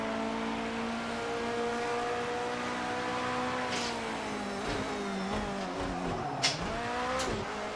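Engine drone of a GT3 race car in a sim racing game, a steady tone that rises and falls with gear changes and revving, heard up close and continuous with no voices.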